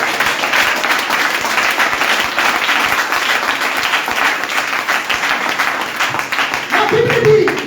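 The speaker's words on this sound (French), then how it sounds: "Acclamons Jésus-Christ." A church congregation applauds and cheers for Jesus Christ in a loud, dense, sustained burst of clapping close by, with voices calling out over it.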